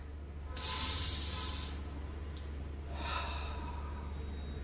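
A person takes two slow, deep breaths, each a long airy inhale and exhale heard close and alone in a quiet space, with a pause between them.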